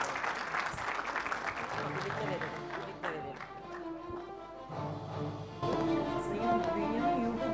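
Applause from an audience at a referees' award night, as association members step up to receive plaques; steady clapping runs through the whole stretch without letup and swells slightly near the end.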